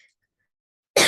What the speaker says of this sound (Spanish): me dio tos porque creo que están limpiando y me está como entrando polvillo